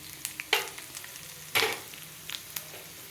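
Garlic and dried red chilies crackle in hot oil in a pan, a soft background fry broken by several sharp spatters and pops at irregular moments.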